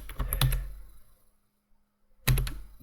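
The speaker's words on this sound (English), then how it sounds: "I'm typing here" Keys clattering on a computer keyboard during a spreadsheet session: a quick burst of clicks, a pause of near silence, then another short flurry of close, crisp keystrokes.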